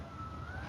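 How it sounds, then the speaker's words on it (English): A siren wails somewhere in the distance, its steady tone drifting slowly upward above a low rumble of background noise, heard briefly with no talking. "I'm hearing sirens."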